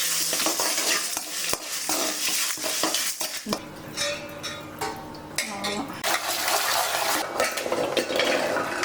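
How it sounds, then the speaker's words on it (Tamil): Cinnamon, cardamom, cloves and fennel roast in a hot pan for duck curry, with busy scraping and clanking of a spoon against metal over a steady sizzle, close and fairly loud. "பட்டை ஏலக்காய் கிராம்பு சோம்பு நல்லா வாசனை வர அளவுக்கு வறுத்துக்கலாம்"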